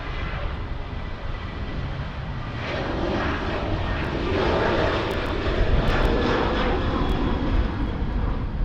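An airplane lands at Sydney Airport, a broad roaring engine rumble that grows slightly louder and holds steady throughout, heard from a distance.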